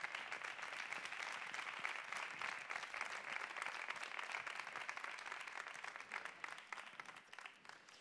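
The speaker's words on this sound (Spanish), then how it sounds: "Un aplauso para ellos." An audience at a hairdressing awards gala applauds for several seconds with dense, even clapping that tapers slightly at the end.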